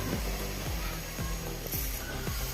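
A gas stove is switched on to heat a kadai, producing a series of sharp mechanical clicks at about two per second, close by over a steady background hiss.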